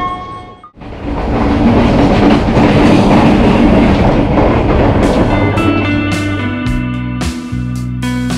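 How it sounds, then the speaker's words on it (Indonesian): The Serayu passenger train rolls into Bandung station, a loud continuous rumble of wheels and carriages building after a short quiet start, with clattering and metallic squeals near the end. "kereta api Serayu tiba di stasiun Bandung"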